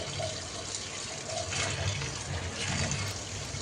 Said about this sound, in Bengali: এখন ভাজিটাও ধুয়ে নিচ্ছি